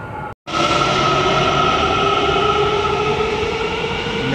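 A metro rail train on a large network in Subang Jaya runs past loud and close, a steady roar with sustained whining tones that holds without a break after a brief silent gap at the start.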